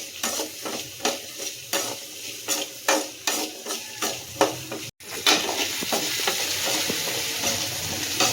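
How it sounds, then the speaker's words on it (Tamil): Onions sautéing and being stirred in a pan for a village-style fish curry, with steady sizzling and repeated scraping strokes of a spoon, close and moderately loud with no talking. "நல்லா வதங்கட்டும்."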